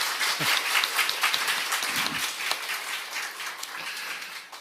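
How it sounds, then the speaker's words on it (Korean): Warm applause ripples through a congregation during a Sunday church service, a few seconds of steady clapping that slowly fades, with faint voices underneath. "박수로 한번 축하를 드립시다"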